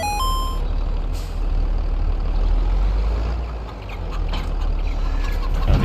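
Tractor engine in Farming Simulator 22 rumbling steadily as a continuous low drone, with occasional reversing-style beeps and brief higher tones over it, no talk.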